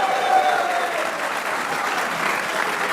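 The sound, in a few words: applause for Shadab's performance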